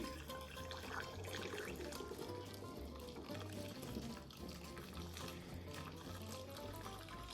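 Homemade disinfectant poured into a 500 ml glass bottle, a steady, faint liquid trickle running throughout with low gurgling, recorded close and quiet.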